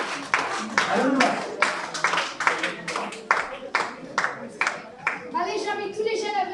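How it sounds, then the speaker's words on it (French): A concert audience breaks into scattered, rhythmic clapping that comes in uneven bursts. Near the end it thins into lighter claps under a few voices. "Ah, bah alors applaudissez!"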